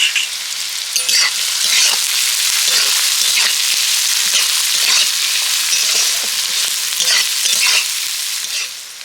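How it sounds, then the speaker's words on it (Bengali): Chopped onion, green chilli and ginger frying in a pan, a loud continuous sizzle close up with stirring scrapes pulsing through it, no talking. "আর পেঁয়াজের সাথে দিয়ে দিচ্ছি কাঁচা লঙ্কা কুচি আর দিয়ে দিচ্ছি একটু আদা কুচি এগুলোকে এখন আমি ভালো করে ভেজে নেব"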